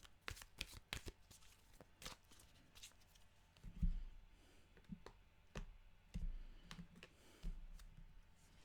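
A deck of animal cards being shuffled by hand, a series of quick crisp riffles and soft taps at close range, fairly quiet, with no speech over them.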